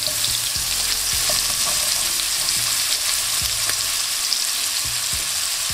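Lamb chops searing fat-side down in a hot pan, a loud, continuous sizzle close up, broken by several sharp scrapes and taps as the chops are shifted, with no voices.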